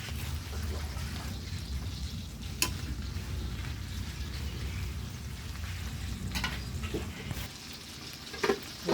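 Shrimp and eggplant cooking in a pan for sinigang, a steady low sizzle and frying hiss with occasional sharp clicks and utensil taps, close and moderately quiet, no talk.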